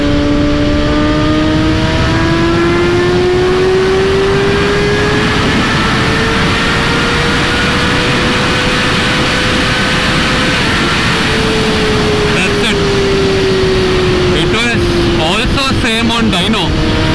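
A Kawasaki ZX6R superbike engine screams loudly near at hand, pitch climbing smoothly to redline in each gear with brief drops at the shifts.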